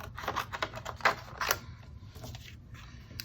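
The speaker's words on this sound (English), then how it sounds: "put all this stuff through the cut and emboss machine to the size that we need them to be" A hand-cranked die-cut and emboss machine rolling a paper stack through its plates, a rapid run of close ratcheting clicks that grow louder and then fade out.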